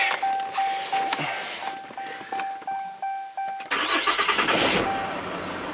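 A 2021 Ram tow truck's engine is started up: several rhythmic cranking pulses from the starter come first, then the engine catches and roars into a loud, steady run, with a high electronic chime beeping throughout.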